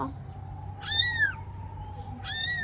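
A rescued kitten cries with two plaintive meows, rising then falling, close and clear over a low steady hum.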